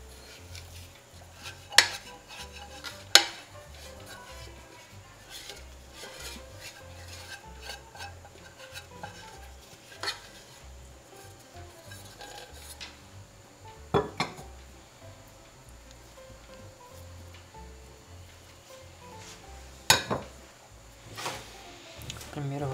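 Ingredients for a healthy whole-grain corn bread get stirred in a bowl, with soft steady scraping and rubbing broken by a few sharp clinks of utensil on the bowl, close, with faint talk at times.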